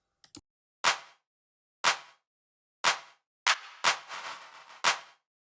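A resampled clap hits in short sharp bursts about once a second, each trailed by a wobbling, shifting delay smear, with a brief drum-like flurry between the later hits.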